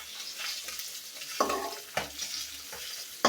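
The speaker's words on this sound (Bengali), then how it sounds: "একটা মাছ ভাজা হয়ে গেছে প্রায়, আবার ঘুরাই দিই, উল্টে দিই" Small river puti fish frying in a pan: close, steady sizzling and crackling, broken by a few sharp scrapes and knocks as the fish are turned.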